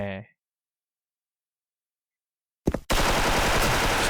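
Automatic gunfire in the Special Force shooter game comes as a short burst and then a loud, dense, sustained spray of rapid shots, close and harsh, after a brief bit of talk.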